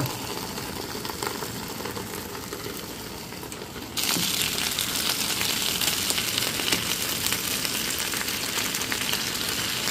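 Bok choy fries in a covered pan, a dense steady hiss and crackle that grows louder and brighter partway through and then holds, with no talk.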